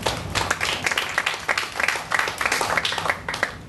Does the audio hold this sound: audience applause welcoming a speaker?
yes